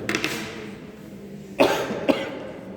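Two short, sharp coughs about half a second apart, close by, after a stretch of quiet room noise.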